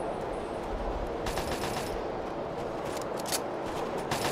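Rapid automatic gunfire crackles throughout in the Fallout 3 Operation: Anchorage combat, with dense bursts of shots over a rumbling game soundscape and no talking.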